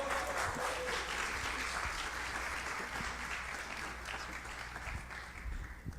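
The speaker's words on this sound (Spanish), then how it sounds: "Fuertes aplausos, por favor." Sustained applause from an audience at a university lecture on community, communication and conflict, a dense, even clatter of clapping that holds steady and tapers slightly toward the end.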